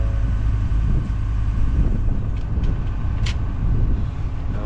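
A truck engine idles in a snowstorm, a loud, steady low rumble that holds throughout with a constant drone and a few faint higher hisses above it.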